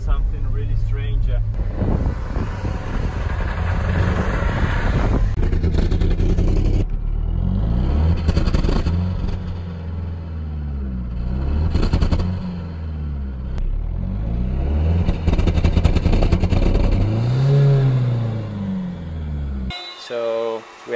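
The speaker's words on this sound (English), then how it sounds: "The engine is doing something really strange." A van engine with a fault that cuts power rumbles steadily and loudly, its pitch rising and falling unevenly with surges and dips, while a voice talks over it.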